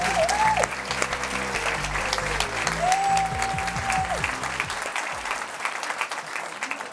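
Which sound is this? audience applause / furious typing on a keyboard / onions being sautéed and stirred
audience applause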